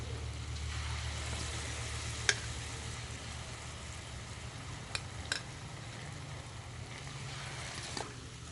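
Banana pieces in tempura batter fry in hot oil, giving a steady soft sizzling hiss throughout with a few faint clicks and knocks, and no one speaking.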